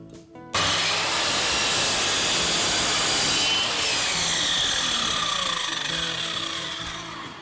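A power saw cuts through wooden chair legs, with a sudden onset of loud, dense buzzing and grinding that holds steady for several seconds before easing slightly toward the end.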